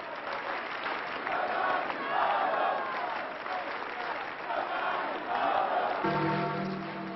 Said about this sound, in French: Les dizaines de milliers de jeunes massés sur la place applaudissent à tout rompre, scandent le nom de Jean-Paul II comme avant.